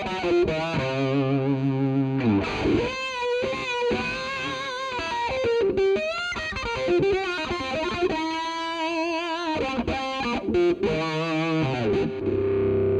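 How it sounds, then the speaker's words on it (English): Electric guitar played through an Electro Harmonix Cock Fight with the fuzz placed after the filter, giving a loud, distorted, nasal tone across a run of notes and chords with short gaps between phrases. "this is the fuzz after the filter"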